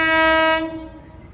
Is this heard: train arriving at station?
yes